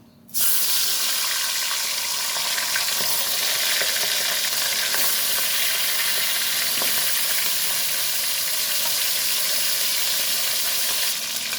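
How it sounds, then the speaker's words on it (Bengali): Fish heads drop into hot oil with a sudden loud burst of sizzling that settles into a dense, continuous close-up frying hiss lasting several seconds. "তেল গরম হয়ে গেছে, এবার দিয়ে দেব মাছের মাথাগুলো।"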